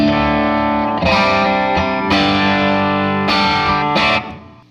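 An electric guitar through a cranked Fender tube amp breaking up, with hard-picked chords ringing loud and gritty, sustaining between strums and fading out at the end.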